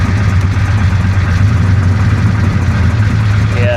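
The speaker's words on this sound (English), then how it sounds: "The engine does not sound good." A flood-damaged 1966 Chevy Impala with a 427 engine runs rough with a loud, close, uneven low idle throb that shudders continuously, a brief higher whine creeping in at the very end.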